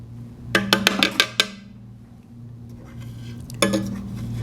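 Immersion blender puréeing plums for a Chinese plum sauce, its motor humming under a rapid series of sharp metallic clacks as the blade strikes a plum pit, then a quieter stretch and one more burst of knocking.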